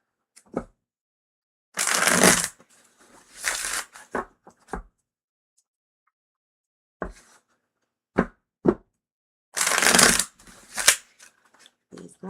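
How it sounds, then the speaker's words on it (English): Tarot cards shuffled in several bursts of riffling at a live tarot and oracle reading, close and fairly loud, separated by pauses with occasional soft taps. "Needs more shuffling."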